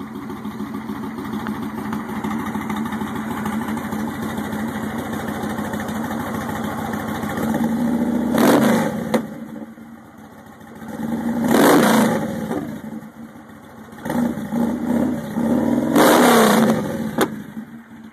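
A 2009 Star Midnight Warrior motorcycle fitted with a V&H Big City Thunder exhaust idles with a deep, loud rumble, then revs three times in strong bursts with short drops back to idle between them.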